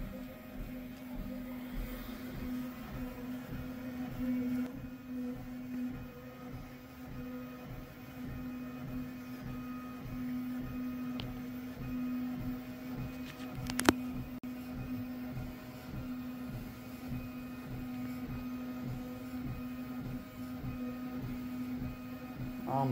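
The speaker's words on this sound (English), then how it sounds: "we're on the second pass coming back towards the front of the bed here with the bed mesh calibration" A Voron 2.4 3D printer hums steadily during a bed mesh calibration pass, with soft repetitive stepper-motor pulses and a brief sharp click partway through, all fairly quiet and steady.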